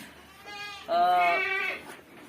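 Boer goats bleat on a goat farm, one long wavering bleat followed by a louder, strained cry, close and clear with no talk over them.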